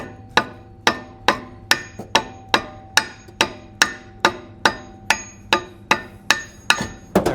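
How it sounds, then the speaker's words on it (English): Steady, evenly spaced hammer blows strike a brake rotor, dealt with the wooden side of a dead blow hammer, about fifteen loud, sharp knocks ringing close up with no talking. "I'm going to use just the wood side of the hammer."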